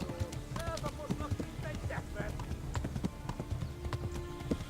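Horse hooves clip-clop rapidly in the medieval game Kingdom Come: Deliverance, an even galloping rhythm of close hoofbeats with a voice chattering over the top.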